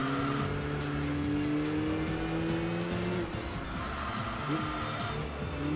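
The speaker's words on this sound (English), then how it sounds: "Now I'm going really early on the brakes here." In the Enthusia racing video game, a race car brakes hard for a hairpin: the engine note drops as the revs fall and the tyres squeal briefly, with someone talking over it.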